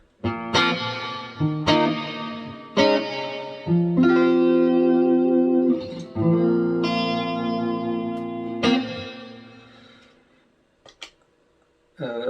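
Clean electric guitar chords and single notes through the clean channel of an Amp1 amplifier ring out with lush reverb tails, strummed in phrases with pauses, ending on a few sparse plucks.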